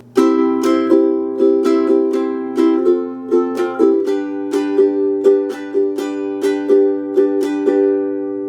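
A ukulele strums a repeating chord pattern for a song, clear and close, with steady mixed down and up strokes in an even rhythm and no voices.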